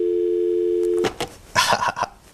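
A telephone dial tone on a call-in broadcast hums steadily for about a second, then cuts off into clicks and a short burst of line noise.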